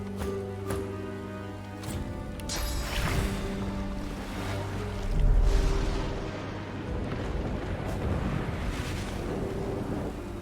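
Rain spell cast in Divinity: Original Sin 2, a steady broadband wash of falling rain and hissing water with low rumbling over a flaming cremation pyre, swelling midway and continuing throughout, with no talk.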